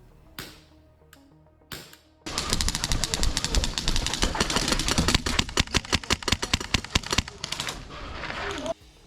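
An airsoft rifle fitted with a Polarstar Kythera HPA unit is test fired: a few isolated clicks, then a long rapid full-auto burst of sharp, closely spaced pneumatic shots, loud and near.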